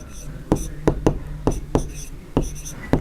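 Pen strokes writing a maths answer by hand, a series of short sharp scratchy taps in uneven rhythm, close and clear, with faint murmured speech beneath.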